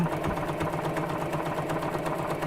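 A sewing machine hums at a steady, even pace while running a test stitch on a scrap piece of fabric for a gift bag, a continuous close mechanical whir with no voices.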